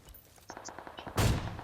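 A brief burst of rapid gunshots in PUBG Mobile, sharp cracks followed by a louder blast near the end, with no talking.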